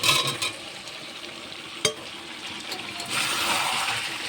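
Potatoes and meat being stirred in hot oil in a pan, a steady close sizzle with scraping stir strokes, one sharp clack near the middle and the frying swelling louder toward the end.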